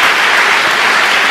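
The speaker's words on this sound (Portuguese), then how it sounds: "Dê uma salva de palmas a Jesus." A church congregation breaks into loud, continuous applause, a dense wash of clapping with no voices standing out.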